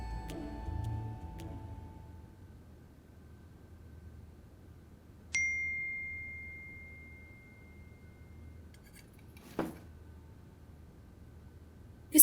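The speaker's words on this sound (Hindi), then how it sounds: "किसका मैसेज आया है?" One clear phone message notification ding sounds in a quiet indoor scene, a bright single tone that rings and fades over a couple of seconds, with a few soft clicks around it.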